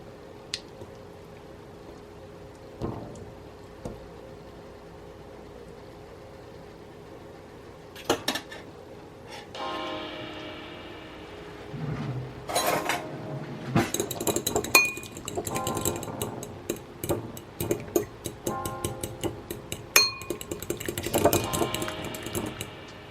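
A utensil mashing frozen food in a pot, quiet at first, then repeated clinks and scrapes against the metal that grow busier and louder toward the end, with no talk over them.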